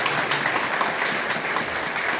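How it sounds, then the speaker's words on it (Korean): A church congregation gives a short welcoming round of applause, with steady, even clapping from many hands throughout, close and fairly loud. "우리 환영의 박수 부탁드립니다"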